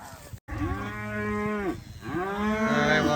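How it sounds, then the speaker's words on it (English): Cattle moo loudly and close during a pasture move, one long drawn-out call followed by a second after a brief pause, with no talk over them. "Come on, cows, come on. Good cows, good cows."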